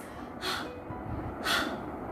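A voice imitates the phonic sound of the letter H with two breathy, panting exhales about a second apart, close and soft, with no other sound around them.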